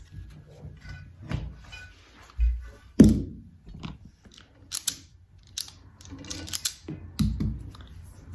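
Wire being cut on an old bridge arm lamp during rewiring, with a few sharp snipping clicks and small handling knocks, one louder snap near the middle, heard close up with no talking.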